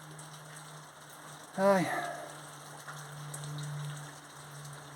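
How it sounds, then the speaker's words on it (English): Heavy rain pours down outside a garage during rear brake work on a 2007 Vauxhall Astra H, a steady hiss of rain. Someone speaks briefly in the middle. "Absolutely pouring down with rain outside"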